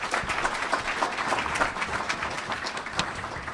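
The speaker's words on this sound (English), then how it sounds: "maybe we could just give him a round of applause as well" An audience applauds steadily at an alumni day opening, a dense, even patter of many hands clapping throughout with no talk.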